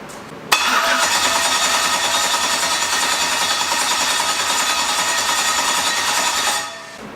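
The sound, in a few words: LS Mustang engine cranking, failing to start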